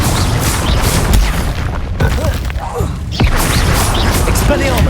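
Confringo blasting-curse explosions in Hogwarts Legacy, sharp booming bursts landing repeatedly amid dense combat noise, with a voice shouting spell names over the clatter.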